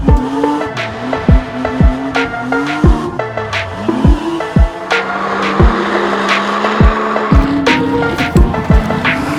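A BMW does drifting donuts in a parking lot, its tires squealing in long, loud, repeated sweeping whines over the engine's drone, with sharp squeals recurring every second or so.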